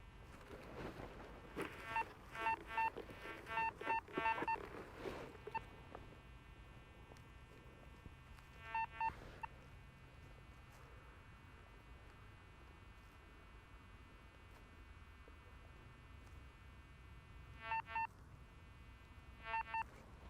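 Faint, high electronic beeping target tones from a Nautilus metal detector come in short warbling bursts, a cluster early on and a few more later, over low background hum, from a shallow shotgun cartridge piece.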